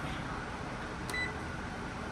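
A kitchen timer gives a single short, high electronic beep while a German chocolate cake is being baked. The beep sounds once over a quiet room hum.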